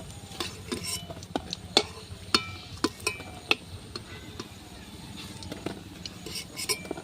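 Metal utensils clink and scrape against a pan while fried prawn fritters made with small chopped prawns are lifted out in a village kitchen. Sharp, scattered clinks sound over a faint background sizzle.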